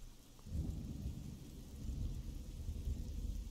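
A thunderstorm with rain in the video game Oblivion: a deep rolling rumble of thunder builds and sustains beneath a steady hiss of falling rain, fairly quiet overall, with no talking.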